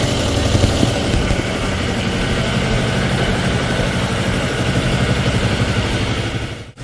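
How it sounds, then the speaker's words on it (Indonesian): A motorcycle engine idles at a raised, steady speed while warming up before carburetor adjustment, a loud continuous low rumble with no talk, cutting off abruptly at the very end. "Ketika mesin sudah mulai hidup, kita tinggikan sedikit stasionernya agar mempercepat mencapai suhu kerja."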